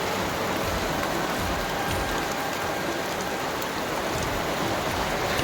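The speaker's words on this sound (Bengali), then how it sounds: "দেখতেই পাচ্ছ কীরকম বৃষ্টি শুরু হয়ে গেছে।" Heavy rain pours down outdoors, a dense, loud, unbroken hiss of drops striking surfaces that stays constant from start to finish with no voices.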